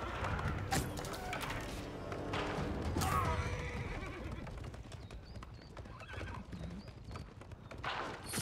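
Horses in a medieval real-time strategy game battle with horse archers: dense, continuous hoofbeat clatter with neighs and whinnies over crashing, thudding combat noise, loud throughout.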